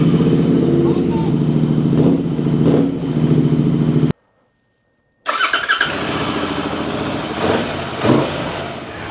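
A motorcycle fitted with a K-Speed Diabolus Diablo Thunder slip-on exhaust, its engine running loud with a deep, steady rumble, cut off for about a second of silence before the engine sound resumes and continues at a similar level.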